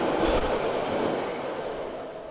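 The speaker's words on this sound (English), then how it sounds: "how loud it gets in this echoey platform when the train is leaving or pulling in" London Underground train on the echoey platform at Gants Hill, a loud rumbling roar of wheels and motors filling the space, steady and close, slowly easing in level.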